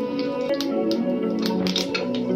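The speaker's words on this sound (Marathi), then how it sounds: "मोहरी अशी तडतडायला द्यायची आहे" Mustard seeds spluttering in hot oil with chillies and curry leaves, a steady close sizzle broken by scattered sharp pops.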